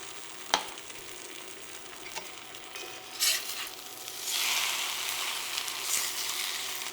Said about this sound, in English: So I'll stir that all together and let that spinach wilt down before I add in my eggs.